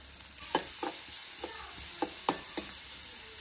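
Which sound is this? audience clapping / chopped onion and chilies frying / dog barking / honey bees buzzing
chopped onion and chilies frying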